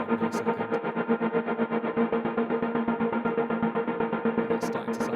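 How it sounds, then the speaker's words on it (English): A sample loop in Ableton Live runs through an auto pan effect synced to a tempo subdivision, a dense, distorted repeating pattern that sways rhythmically and evenly for the whole stretch. "Auto pan trick, pulling the phase down, setting it to a subdivision of the tempo"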